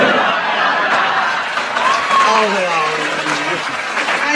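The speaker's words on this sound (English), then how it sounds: "you rotten lot out there applauding!" A studio audience applauds at a long-running radio comedy panel show's anniversary recording, a steady broadband patter of clapping running throughout, with a voice speaking over it.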